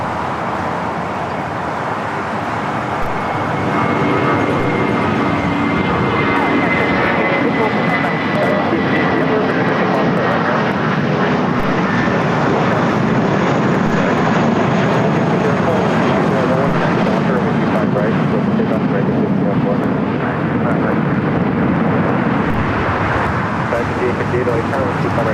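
Jet airliners rumble at LAX airport, a broad, steady roar of engines that swells slightly and holds for the whole stretch, heard from a distance without any talking.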